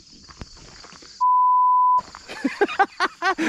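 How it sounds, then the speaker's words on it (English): A single steady electronic beep, loud and clean, lasting under a second, between stretches of rustling and clattering movement. "I just heard a beep."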